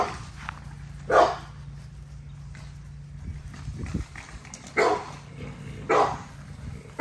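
A puppy, a female expected to grow big, gives a few short, sharp barks at moderate distance, spaced out over several seconds with quiet gaps between.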